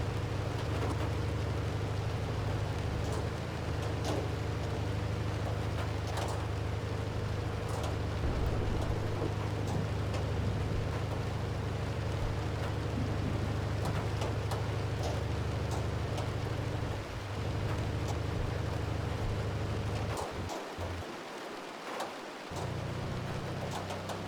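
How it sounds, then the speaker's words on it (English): Heavy hail and rain pounding steadily in the Outbrk storm-chasing video game, a dense continuous roar with low rumbling underneath that thins out briefly near the end. "the hail's getting big over here"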